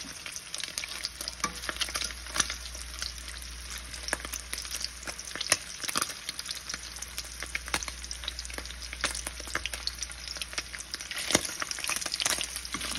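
Spam slices frying in long-heated cooking oil, giving a steady crackling sizzle with dense spits and pops throughout, close and continuous, with no voices.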